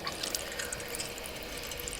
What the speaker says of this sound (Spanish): Abrí de nuevo el grifo y me lavé la cara.